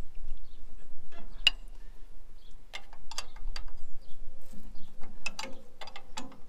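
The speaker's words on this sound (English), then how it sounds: "And then we just do up the pinch bolt as tight as we can." A pinch bolt is tightened on the clutch shaft of a Ferguson TE20 tractor, giving sparse, close metallic ratchet clicks and ticks at an irregular pace over a quiet low hum.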